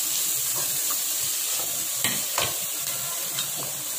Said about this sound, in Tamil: ரொம்ப ஃப்ரை பண்ணனும் இல்ல கொஞ்சம் லைட்டா வதங்கினா போதும் தக்காளி கேரட்